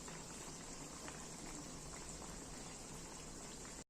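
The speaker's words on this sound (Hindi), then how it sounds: "फ्राई करना है धीमी आंच पर, तभी ये कुरकुरे होंगे।" Wheat flour biscuits fry gently in oil over a low flame, giving a soft, continuous bubbling fizz that stays faint and even throughout, with no talking.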